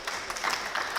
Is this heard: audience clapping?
yes